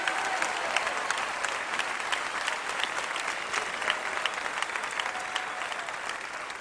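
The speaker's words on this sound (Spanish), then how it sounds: "Denle un aplauso bien fuerte al rey." Steady, dense applause from a church congregation, continuous clapping held at an even level throughout, with no talk over it.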